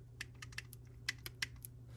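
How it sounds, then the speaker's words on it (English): Several small, sharp clicks tap in an uneven pattern over a faint steady hum, close and quiet, from an iPhone 7 home button making a faulty clicking noise. "Home button's making a funny noise."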